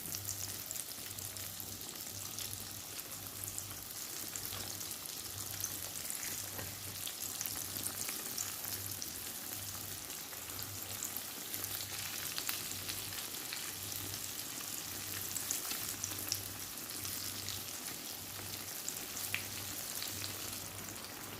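Aubergine slices fry in hot oil with a steady, continuous sizzle and crackle heard close, occasional soft stirring and turning noises mixed in, with no voices throughout.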